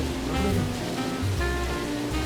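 Red sea bream thrash in a fish market tank, sending up a loud continuous rush and slosh of splashing water with a dense wet roar throughout.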